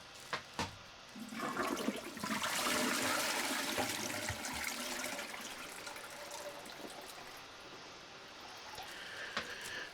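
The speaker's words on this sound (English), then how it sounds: "And what I'm doing here now is just releasing the water from the tank" An upflush toilet tank releases water into the bowl with a loud rushing flush that swells after a couple of seconds, then settles into a softer trickle and refill, preceded and followed by a few clunks.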